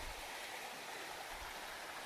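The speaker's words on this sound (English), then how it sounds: "What a nice river." Big Carp River in the Porcupine Mountains rushes under a footbridge with a continuous broadband flowing hiss, soft and steady, with no voices.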